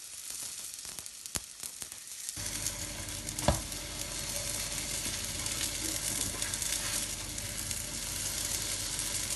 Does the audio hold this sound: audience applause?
no